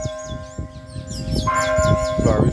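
St. George Parish Church's bell in Barbados chimes for six o'clock, loud and close, its ringing tones building and overlapping while birds chirp in the background.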